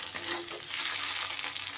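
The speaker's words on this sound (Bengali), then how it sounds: "মিনিট দুয়েক ধরে সব কিছু খুব সুন্দর করে এইভাবে আমি ভাজা ভাজা করে নেব।" Cabbage bharta ingredients sizzle and fry in a pan, a steady close hiss with light stirring scrapes running throughout.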